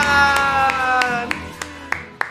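A handful of sharp, separate hand claps ring out at a slow, uneven pace, growing more isolated toward the end, following a burst of cheerful sound over a tonal backdrop.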